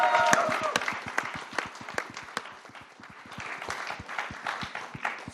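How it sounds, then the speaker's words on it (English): An audience applauds a startup team at an annual pitch contest, a room of hands clapping in a lively, uneven patter with sharp individual claps standing out, a voice briefly heard at the start. "So can I have an applause for Magicbit,"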